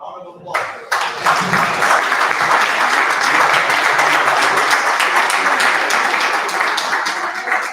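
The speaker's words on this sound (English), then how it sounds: "Round of applause." Sustained audience applause at a Women's Day event, greeting a Medal of Excellence recipient; dense, steady clapping that starts abruptly and continues loud throughout, with some voices mixed in.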